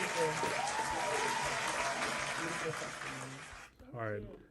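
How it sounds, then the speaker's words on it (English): A live audience applauds during a talk show episode, steady dense clapping that tapers off near the end as a voice begins to speak. "round of applause for all of that"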